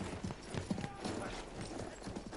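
Horse hooves clip-clop at a steady gallop while a rider crosses the battlefield in Battlefield 1. The hoofbeats sit close, with faint voices underneath.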